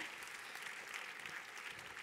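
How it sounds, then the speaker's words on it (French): An audience claps steadily through a short stretch at an opening-speech session of a large French conference day. The applause is dense and even but distant and faint, with no speech on top of it. "On applaudit très fort la Lily"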